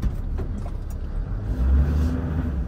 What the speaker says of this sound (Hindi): उधर से भी गाड़ियां आ गई